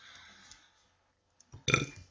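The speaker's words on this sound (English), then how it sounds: "I'm sorry for burping on camera." A single short, guttural human burp, close to the microphone and fairly loud, after a brief moment of quiet.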